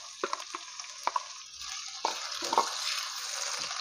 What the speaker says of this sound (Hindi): इसे हम 5 मिनट भूनते हैं ताकि हमारे टमाटर नरम हो जाएं।